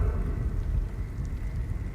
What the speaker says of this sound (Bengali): কদিন ধরেই বৃষ্টি পড়ছিল নাগারে